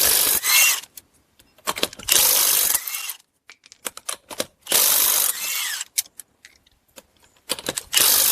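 A ratchet loosens 19 mm wheel lug nuts on a Buick Lucerne or Cadillac DTS, with loud close bursts of rapid clicking separated by short pauses and quiet gaps.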